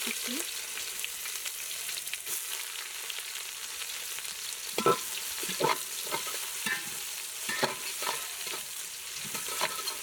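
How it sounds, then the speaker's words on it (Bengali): Sliced onions fry in hot oil in a pan with bay leaf, cinnamon, cloves and cardamom while cooking lentil khichuri. There is a soft continuous sizzle, broken by several sharper scrapes and clinks as the mix is stirred. "পেঁয়াজগুলো আমি ভালো মতো ভেজে নেবো"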